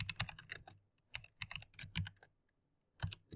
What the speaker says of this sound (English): You just follow what I'm typing.